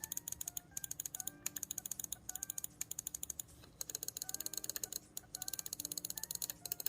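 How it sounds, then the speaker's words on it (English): Fast, light clicking of a Finalmouse Starlight 12 right mouse button in quick bursts, close up and continuous, with short gaps between runs of presses. "Right mouse button."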